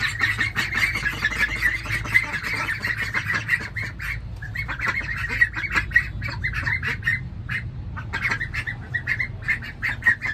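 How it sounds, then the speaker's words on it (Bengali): A flock of young ducklings, about 24 days old, at a hatchery farm, quacking and squawking continuously in a dense, busy chorus close by, with steady background bustle and no talk. "দেখেন হাঁসটা এখনও বাচ্চা, মাত্র 25 দিন বয়স, 24 দিন বয়স।"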